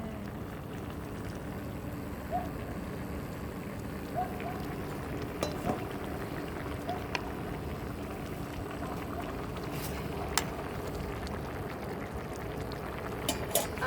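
Fish curry with fried tilapia, broccoli and tomato bubbles in a pan at a low steady simmer, with soft repeated blips and pops close by and no talking.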